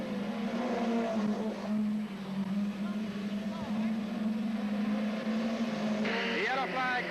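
Hot rod race cars at a 1983 British Championship meeting at Newton Abbot, engines droning steadily as they pass along the track, with a commentator talking over the continuous motor noise.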